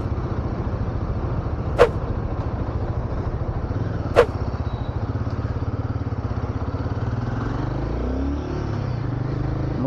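Royal Enfield Guerrilla 450 motorcycle engine settling into a steady, close thumping idle, with two sharp clicks early on and the beat shifting slightly toward the end.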